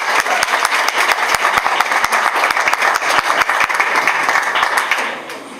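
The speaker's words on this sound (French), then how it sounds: "je vous demande d'applaudir très fortement" An audience at an African cultural event honoring Cameroon applauds warmly, a dense, continuous wash of clapping that holds steady for about five seconds before tapering off.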